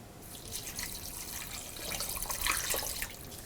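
A cup of water is poured into a biryani masala of pepper powder, garam masala, lemon juice and salt for tapioca (kappa) biryani, giving a steady close splashing, trickling wash that swells slightly toward the end.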